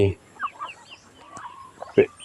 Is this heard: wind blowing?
no